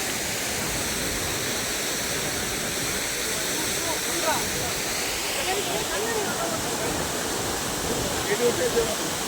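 Adirpally waterfall rushing as a broad, steady roar of falling water that fills the whole scene, with faint scattered sounds near the end.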